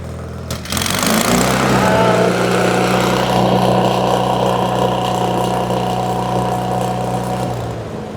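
An Onan Performer 16 engine on a Lincoln Ranger 8 welder, just after a carburetor clean, starts with a thump and settles into a loud, even, steady idle close by.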